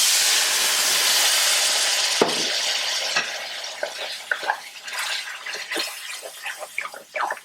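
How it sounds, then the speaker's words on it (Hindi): Water poured into a sizzling moong masoor dal masala tadka in a pan, a loud steady hiss of frying and steam that gradually subsides into intermittent scraping and stirring clicks of a spoon against the pot. "और फिर इसमें पानी डालते हैं।"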